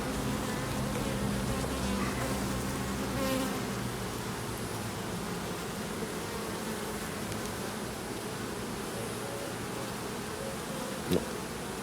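Honeybees drone at an opened beehive during a summer hive inspection, a dense, steady buzzing swarm that is close and continuous throughout, with no speech.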